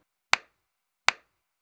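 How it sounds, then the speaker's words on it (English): Two sharp, isolated hand claps spaced under a second apart, crisp and close in an otherwise silent room, demonstrating body percussion. "For example, you can clap,"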